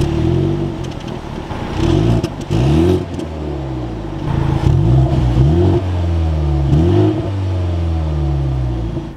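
A 2023 BMW 330i M Sport engine running close by, revving up and settling repeatedly with rising and falling tones and a steady low rumble underneath, no talking.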